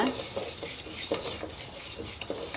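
Moong dal is lightly roasted in ghee in a pan. Quiet, repeated scraping strokes from a spoon stirring the lentils sit over a faint, soft sizzle.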